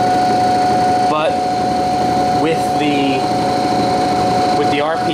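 An Imperial Electric dynamo running under load, a loud, steady electrical hum with a constant tonal whine throughout, while a person talks over it in short bursts.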